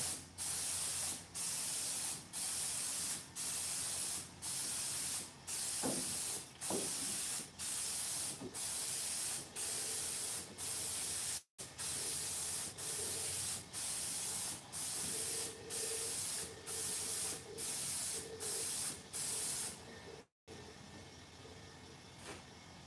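A spray gun shoots single-stage automotive paint in a long series of evenly spaced, loud hissing bursts, each about a second long with short gaps between, plus a few faint clicks and knocks along the way.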